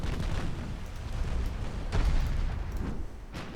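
Six-inch naval guns firing in a Greek naval campaign video game, a rumbling barrage of booms with a heavier blast near the middle, continuous and fairly loud.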